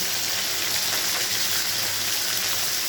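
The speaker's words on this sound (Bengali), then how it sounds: "একটু তেলটা বেশি দিয়ে মাছগুলো ভাজা হোক" Snakehead fish fry in a generous amount of hot oil, giving a loud, steady, unbroken sizzle with no talk over it.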